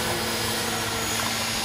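A Walkera MX400 radio-controlled helicopter flies at Starfish Bay, giving a steady, broadband whirring buzz of rotor and motor that holds level throughout without breaks or talk.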